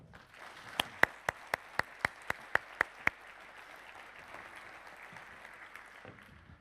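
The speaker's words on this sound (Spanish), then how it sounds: "Un aplauso, por favor." At a cybersecurity conference opening, around ten sharp, evenly spaced claps ring out close over a soft bed of audience applause, then the distinct claps stop and a quieter murmur of clapping lingers.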